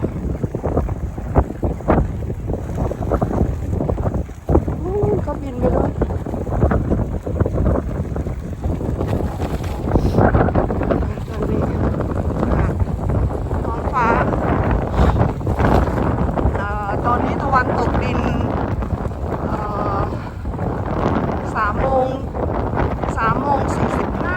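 Strong wind roars and buffets the microphone throughout at the seashore, with faint water and boat noise beneath and occasional voices in the background.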